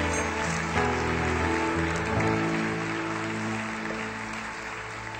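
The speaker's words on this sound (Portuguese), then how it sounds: "Dê um aplauso ao Senhor" A church congregation claps in a steady, rain-like wash of applause, mixed with sustained musical tones droning underneath and tapering slightly toward the end.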